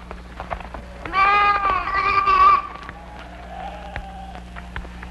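Sheep bleating in a biblical-era film scene, a wavering, voice-like call lasting about a second and a half, loud and close, then fading into a quieter background.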